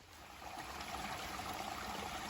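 Stream water at an Appalachian Trail water source, a steady soft trickle and rush of flowing water heard close by, low in level with no voices.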